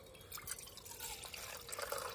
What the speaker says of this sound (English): just put some water in there.